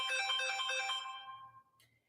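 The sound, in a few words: mobile phone ringtone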